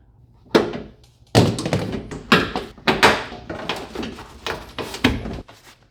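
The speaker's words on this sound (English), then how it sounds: "Next step here is to take that door panel off and see what's behind there." A car door panel is pried off during a DIY speaker install, giving a series of loud, close thunks and sharp pops from plastic clips releasing, spaced irregularly over several seconds.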